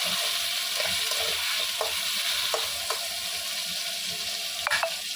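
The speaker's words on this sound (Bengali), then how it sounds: "কুমড়ো আর বেগুনটা দিয়ে একটু নাড়াচাড়া করবো।" Pumpkin and eggplant fry in a pan while being stirred, giving a steady sizzle broken by a few soft scraping stirs and a couple of sharper clinks near the end, with no talking.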